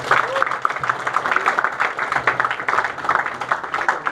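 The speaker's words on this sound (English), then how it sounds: "Give them a round of applause." Scattered clapping and crowd noise at a motovloggers' subscriber meetup in Lonavala, moderately loud and uneven, with voices and chatter mixed underneath.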